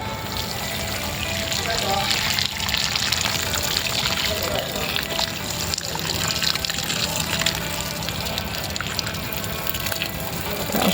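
Water pours from a watering can onto plants being grown in a Thai garden, a continuous splashing, trickling stream close by that keeps going throughout, with someone talking over it.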